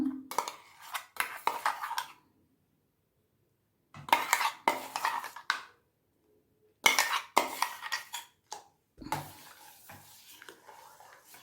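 Ground tender coconut is stirred into warm milk with a spoon, producing bursts of clinking, scraping strokes against the vessel separated by quiet pauses.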